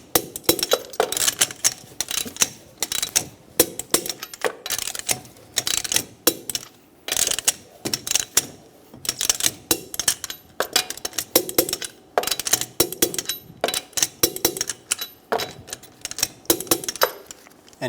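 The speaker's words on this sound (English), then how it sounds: "Torque the wheel to 80 foot-pounds in a cross pattern." A wrench ratchets on the wheel lug nuts of a 1994-1997 Honda Accord 2.2L four-cylinder, tightened in a cross pattern: close, loud bursts of rapid clicking, repeated in short runs with brief pauses between them.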